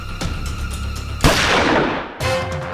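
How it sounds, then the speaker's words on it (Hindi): A single sharp gunshot cracks out loudly amid a tense dramatized crime scene, trailing off in a noisy decay before a second abrupt burst of sound follows. "अरे गोली चली"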